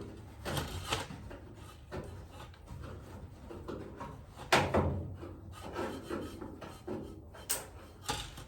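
Hand sanding car bodywork on a 1972 VW Super Beetle, with repeated rasping strokes, irregular in rhythm, close and fairly loud, with no talking.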